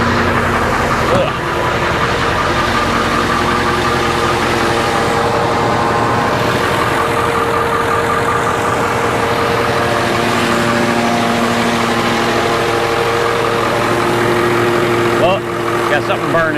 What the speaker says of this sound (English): This old truck sounds good.